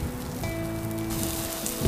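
Food frying in a pan at a campsite gives a close, steady sizzle and crackle throughout, with a faint tonal hum partway through and a louder pop at the very end.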